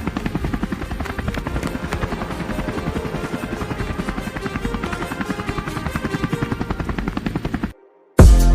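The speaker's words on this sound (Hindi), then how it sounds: "ये तो हेलीकॉप्टर की आवाज़ लगता है" A helicopter's rotor beats in a fast, steady, loud chop with a droning engine whine, continuous and close, then it cuts off abruptly near the end.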